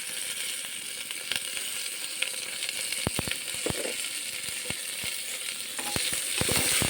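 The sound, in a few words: cumin powder, salt and sugar frying in a pan for khichdi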